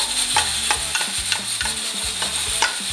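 Half an onion sizzles as it fries in a large black pot for a cassava and pork loin broth, a steady crackle broken by repeated scraping stirs, close up with no talk.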